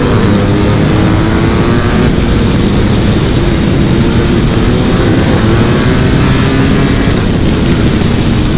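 BMW R1250GS and R1300GS motorcycles at speed, with a dense, steady engine drone and heavy wind roar, loud and close throughout with no pauses.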